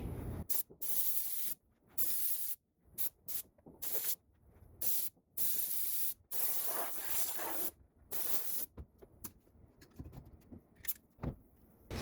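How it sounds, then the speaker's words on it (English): Spray glue hisses in repeated short bursts onto a cheap upholstery arm rest cover, each spray loud and close with brief silent gaps between them. "So I sprayed some glue there to kind of help me set it."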